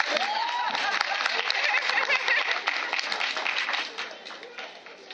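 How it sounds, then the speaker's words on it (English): Audience clapping and applause, a dense steady patter of many hands that fades somewhat toward the end, with a voice speaking over it at times. "Clap."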